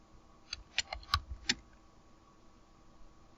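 A few quick, light keystrokes on a computer keyboard while a note is typed into a drawing program, five soft clicks clustered in the first second and a half, then quiet room tone.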